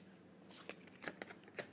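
Quick riffle shuffling of tarot cards, a few short crisp bursts of ruffling against a quiet background.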